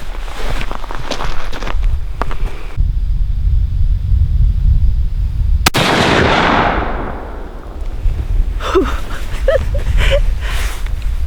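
A single loud gunshot from a 45-70 shotgun insert during a black bear hunt cracks out around the middle, followed by a long rolling echo and outdoor wind rumble.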